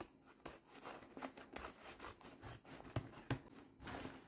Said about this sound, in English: So now what I'm going to do is cut the bulk off.